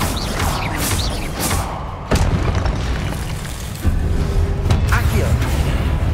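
The Incendio fire spell in Hogwarts Legacy fires off as a run of heavy, close booms and thuds over continuous game noise, with a couple of sharp strikes standing out.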